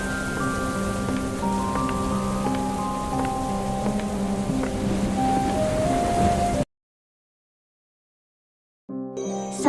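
Steady night rain in the Sakura School Simulator game, a constant hiss with sustained tones over it, then a sudden cut to silence before a brief return near the end.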